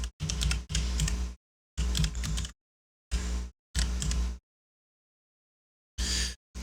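Close bursts of clattering computer keyboard keystrokes come in several short runs separated by silent pauses, with no talking.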